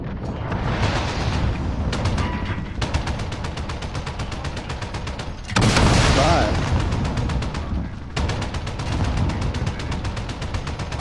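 Dense, rapid automatic gunfire from the Modern Warfare video game crackles almost nonstop in loud bursts, with a heavy blast midway, while players talk over the shooting.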